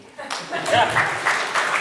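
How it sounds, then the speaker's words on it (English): An audience at a clean comedy and magic show claps for volunteers called up to the stage, a short burst of applause that swells after a quiet start, with a few chuckles and voices mixed in. "we'll let everybody give you a round of applause here real quick"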